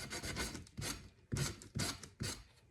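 A sanding sponge rubs sideways across the rim of a patina ombre tumbler, making a close rasping scrape in five repeated strokes with short pauses between them.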